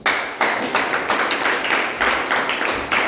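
Applause at a Toastmasters club meeting, a room full of people clapping steadily in dense, bursting waves for about three seconds with no talking.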